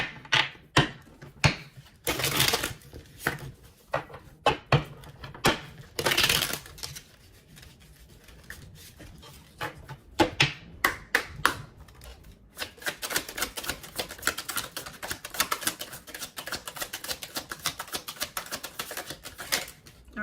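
Tarot cards shuffled and drawn during a reading: bursts of crisp riffling and flapping, then a long run of rapid light card clicks and taps, close and fairly loud, with no speech.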